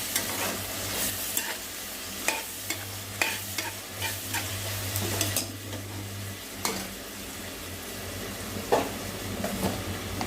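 Fried brinjal pieces are stirred into a sizzling dried-fish curry in a pan, with repeated scraping strokes of a spoon over a steady close fry.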